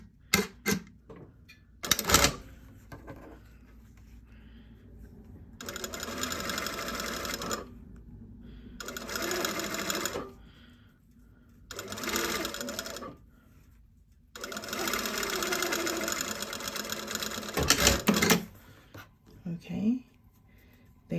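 A sewing machine stitches along the opened fold of bias binding in four close, steady bursts of rapid needle clatter, separated by short pauses and a few soft handling clicks.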